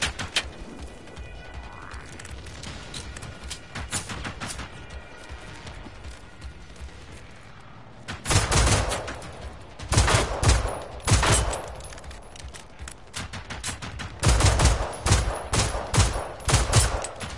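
Gunfire in the open-world shooter Generation Zero: bursts of rapid shots and crackling reports come in clusters over a steady background, growing louder after a quieter stretch, with faint bird-like chirps and no voices.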